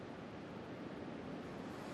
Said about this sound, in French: les vagues déferlent sur les plages à pleine puissance